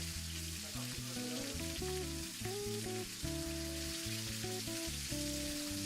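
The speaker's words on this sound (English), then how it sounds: "Now that we got the butter going, I'm going to add some herbs. I'm putting thyme and rosemary in." Butter with fresh thyme and rosemary sizzles in a steak pan, a steady, dense frying crackle with no break, while music plays loudly over it.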